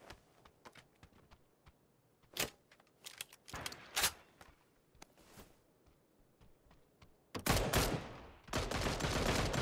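Gunfire during a video game squad match: scattered sharp shots and short bursts separated by quiet gaps, then heavier sustained firing toward the end.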